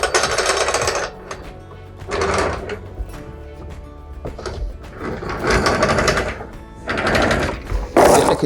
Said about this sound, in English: Now we can take the chain out a little bit more.